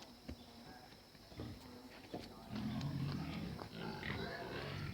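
Pigs grunt low and steady in a pen, a continuous rough snuffling rumble with scattered knocks and shuffling, fairly faint and without speech over it.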